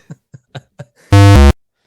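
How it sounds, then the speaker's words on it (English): A harsh game-show buzzer for a wrong answer blares once, loud and steady for a short burst, after four quick soft taps. "We got buzzers here."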